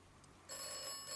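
A telephone rings inside the video game Atomfall, a bright electronic trill that starts abruptly partway through and continues steadily over faint background ambience.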